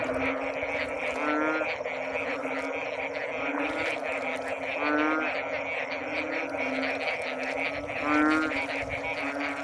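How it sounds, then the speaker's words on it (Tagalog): Many frogs croak together in a loud nighttime chorus in farm fields after rain, rhythmic pulsing calls repeating steadily with no voices. "naglalabasan yung mga palaka. Maingay sila."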